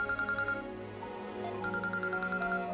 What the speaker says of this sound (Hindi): टेलीफोन आया है शायद